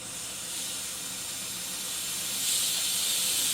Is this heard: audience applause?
no